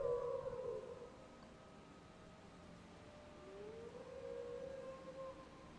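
Wolves howling in the video game Skyrim, long wavering tonal howls, one fading early and another rising toward the end, moderately distant over a faint ambient background.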